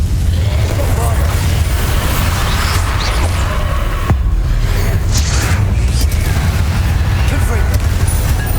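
Bombarda blasting spell in the game Hogwarts Legacy, a continuous loud rumbling boom and explosive wash of combat noise filling the whole stretch, with spell effects crackling on top.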